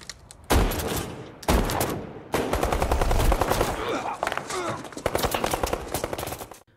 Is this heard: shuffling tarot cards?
no